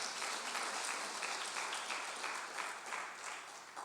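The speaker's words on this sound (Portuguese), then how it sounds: "Dê as palmas para o Senhor nesta manhã." Church congregation clapping together, a steady wash of applause held at an even level for the whole stretch, without voices on top.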